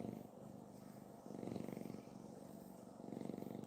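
A domestic cat purrs steadily up close, a low continuous rumble that swells in rhythmic waves with each breath, alone without any talking over it.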